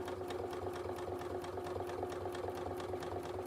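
A sewing machine stitches freehand appliqué fabric, running at a steady speed with a rapid, even mechanical chatter heard close up and alone.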